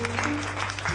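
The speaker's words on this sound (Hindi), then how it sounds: "सभी लोग नैंसी के लिए तालियां बजाएंगे।" A classroom of students applauds a classmate named Nancy, a brief burst of clapping with a steady low hum beneath it.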